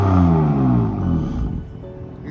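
A BMW M3 fitted with an IJzerman exhaust system revs up close by, its deep roaring note sweeping down and settling into a lower rumble, with no voices.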